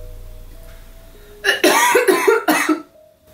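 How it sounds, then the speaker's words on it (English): After a quiet hum, a person lets out a burst of harsh, raspy coughs in quick succession, loud and close. "That sounded like a smoker's cough."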